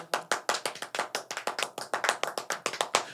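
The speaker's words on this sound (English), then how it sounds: "Give these people a round of applause, man." A small group claps steadily at the close of a morning talk show, the sharp individual handclaps coming in a quick, even rhythm for about three seconds with no voices.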